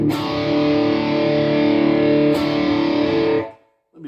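An electric guitar through a Boss Katana amp set to a Marshall Guv'nor distortion pedal model rings out a sustained, crunchy overdriven chord, struck again midway, then cut off, followed by a faint brief scrape.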